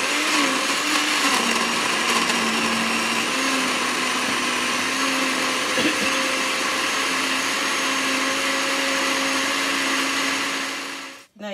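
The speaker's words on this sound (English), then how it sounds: "And now blend." A blender runs steadily and loudly on ingredients for a mutton biryani in a home kitchen, a continuous whirring motor drone with slight pitch wobbles that holds for about eleven seconds before cutting off abruptly.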